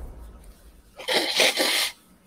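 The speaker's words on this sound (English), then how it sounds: "rudely blow my nose" Someone blows their nose once, a loud, burst-like honk of about a second following faint breathing, then quiet.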